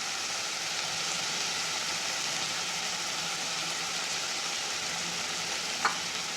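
Ground spices including goda masala and coriander-cumin powder sauté in a pan with a steady, even sizzle at moderate level. One brief clink is heard near the end, and no one talks.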